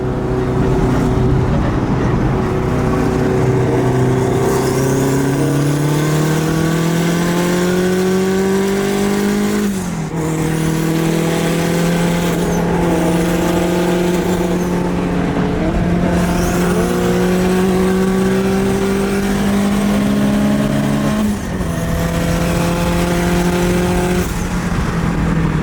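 A heavily modified BMW M5 with roughly 800 wheel horsepower runs at a car meet, its loud engine roaring continuously and climbing through several rising pulls, each broken by a brief dip between them.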